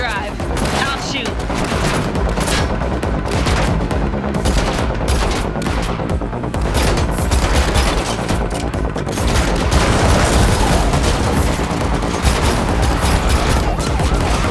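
Dense, loud gunfire rattles almost nonstop through a car chase in The Matrix Awakens Unreal Engine 5 demo on PS5, bursts and booms layered over roaring engines and crashes.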